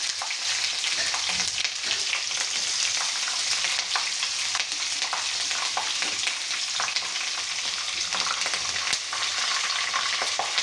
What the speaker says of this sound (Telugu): అందులోకి ఇప్పుడు మనం కరివేపాకు, ఆనియన్స్, జీలకర్ర వేసుకునేద్దాం